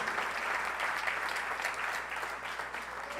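Congregation clapping in a church service, a steady dense wash of applause filling the space without pause, with no speech over it.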